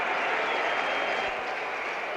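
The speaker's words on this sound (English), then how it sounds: "The West Indian crowd is going wild over on the left of the ground." A West Indian cricket crowd roars continuously at the 1975 World Cup Final against Australia after a wicket falls, a dense, loud and steady wash of cheering and applause from a large distant stand.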